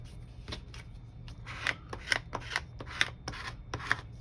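A crafted paper tag is being folded by hand close up, with soft crisp rustles and sharper creasing snaps coming at irregular intervals over a quiet background.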